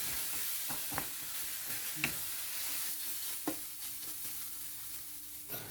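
Steady sizzling of lemongrass chili paste frying in a pan, with occasional scraping clinks of a spatula stirring, close and continuous.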